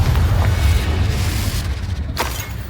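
Confringo fire spell exploding in the video game Hogwarts Legacy, a loud, deep rumbling boom with a brief crackling burst near the end.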